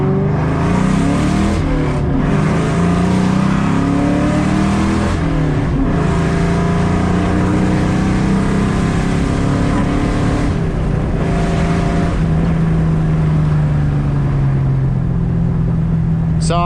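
A Ford Mustang engine drones steadily from inside the car while driving, its pitch rising and falling with shifts and revs under road noise, loud and continuous throughout.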